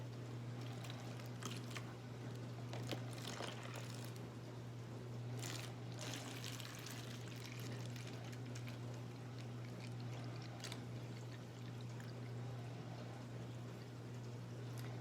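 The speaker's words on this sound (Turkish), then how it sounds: "Ve içerisine Bismillah suyumuzu dolduralım." Water is poured into a bottle for a plant drip feeder, a soft continuous pouring trickle under a steady background hum, faint and even for about fifteen seconds, with a few brief splashy bursts and no speech.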